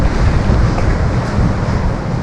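Gusty wind buffets a beach at Lazarevskoye on the Black Sea near Sochi, a steady broadband roar of wind noise over the microphone with surf washing beneath it, loud and continuous without any voices.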